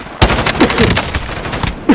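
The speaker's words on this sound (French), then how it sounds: "Oh, il me tire dessus." Enemy gunfire in the video game Call of Duty: Modern Warfare comes as close, loud bursts of rapid automatic shots with sharp reports at the start and end.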